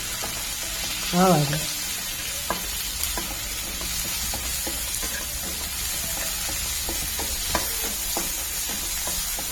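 Tomato frying in a pan for paneer masala gives a steady, dense sizzle with scattered stirring clicks, close by, while a brief voice speaks early on.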